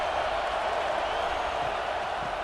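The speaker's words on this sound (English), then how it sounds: "Listen to the crowd energy here in the early going." A college football stadium crowd at a Texas versus Arkansas rivalry game sustains a steady, dense roar of cheering throughout, loud and enveloping, with no single voice standing out.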